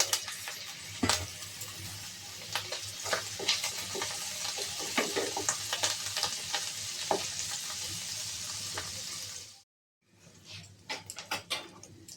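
Spice masala of cumin and chili powder sizzles in hot oil with a little water for a hilsa fish curry, with steady frying hiss and repeated spatula scrapes; the sound cuts out briefly near the end, then resumes.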